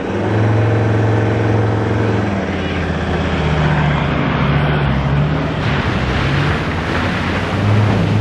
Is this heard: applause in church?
no